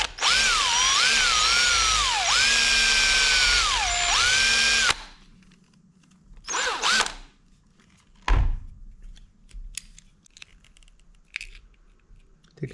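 A power drill with a 1/8 inch bit bores out rivets held with small vice grips, whining loudly for about five seconds with two brief dips in speed, followed by scattered clicks, clatter and a thud.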